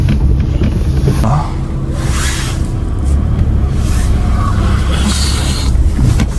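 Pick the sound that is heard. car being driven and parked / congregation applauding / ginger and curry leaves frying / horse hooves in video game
car being driven and parked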